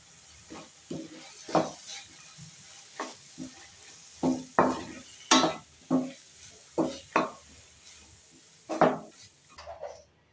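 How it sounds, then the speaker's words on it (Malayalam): Spoon stirring chili powder, coriander powder and sambar powder in a pan for Tamil Nadu kara kuzhambu, with repeated scraping strokes and soft sizzling, close and fairly quiet, no talking. "1 ടേബിൾ സ്പൂൺ മുളക് പൊടിയും 1 ടേബിൾ സ്പൂൺ മല്ലിപ്പൊടിയും 1 ടീസ്പൂൺ സാമ്പാർ പൊടിയും കൂടി ഇട്ട് കൊടുത്ത് നല്ലതുപോലെ മിക്സാക്കാം."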